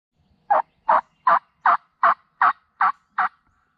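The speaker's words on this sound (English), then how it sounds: "I've never heard that many turkeys here before" Eight loud gobbling calls from wild turkeys in spring, in a steady, evenly spaced series, close and clear with no other sounds around them.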